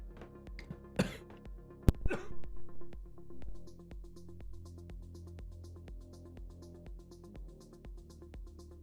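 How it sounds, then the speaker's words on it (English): Several coughs and throat clears burst out near the start, loud and close, over a steady background of low music or ambient hum that continues after they stop. "Excuse the coughing"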